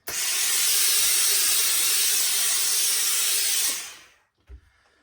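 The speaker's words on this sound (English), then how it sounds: "let's give it a bit of steam on that, shall we?" A loud, steady hiss of steam from a hat steamer runs for about four seconds while refurbishing a trilby hat, then cuts off, followed by a faint thump.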